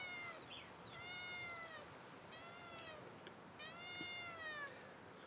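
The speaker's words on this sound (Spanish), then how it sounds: "El gato lo tengo ahí." A cat meows several times at a distance, drawn-out rising and falling calls over a faint background hiss, with no voices.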